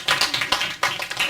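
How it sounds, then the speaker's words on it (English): Scattered clapping from a small audience, several uneven bursts of claps close by, with no voices over them. "Can we have some applause for that one?"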